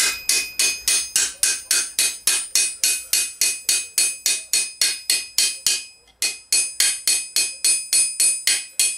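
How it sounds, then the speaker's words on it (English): A small hammer taps a crease of fluting into steel armour on an anvil, making rapid, evenly spaced, bright metallic strikes, close and ringing, with one short pause partway through. "take a small hammer, offer your crease a little ways up, you're not pushing it in hard"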